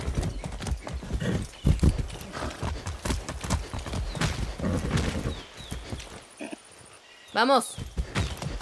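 Horse hooves clip-clop at a gallop in the video game Far Cry 6, a steady rhythmic pounding running under excited Spanish shouting, with a brief neigh near the end.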